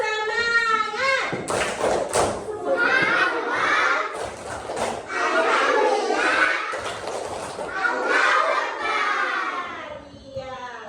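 Schoolchildren in a classroom perform the tepuk semangat clapping chant, with loud rhythmic group clapping and shouted children's voices filling the room, the chant bursting out in repeated phrases over several seconds.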